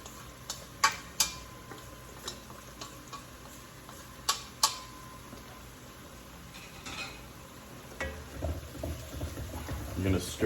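Mushrooms stirred in a pan with a utensil, giving sharp close clinks and taps against the pan early on, then a softer low scraping and shuffling of food toward the end, with faint talk in the background.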